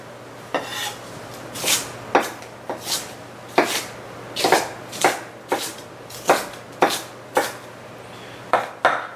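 Knife chopping half a red onion into small pieces on a cutting board, a steady series of crisp, close knocks with short pauses, alone without talk.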